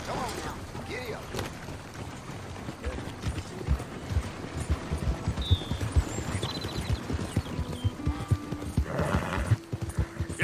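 A horse in Red Dead Redemption 2 gallops with rapid, rhythmic hoofbeats, a brief whinny early on and tack rattling, while other game sounds and a voice come through.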